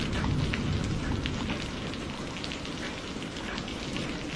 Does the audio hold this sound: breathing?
no